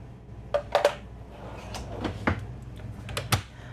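An RV kitchen drawer in a 2023 Newmar Ventana 4369 motorhome is pushed shut, giving a quick cluster of close knocks and clacks followed by two more single thumps, over a quiet room hum.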